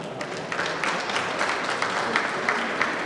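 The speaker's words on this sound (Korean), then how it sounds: "다시 한번 큰 박수 보내주십시오" A crowd at a university's 70th anniversary ceremony applauds the opening of a floral decoration display, steady moderate clapping heard from within a large hall, even and sustained throughout.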